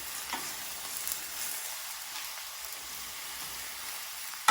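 Vegetables stir-fry in a hot pan for Mama instant noodles, a low even sizzle with faint stirring and a sharp clatter at the very end, no talking.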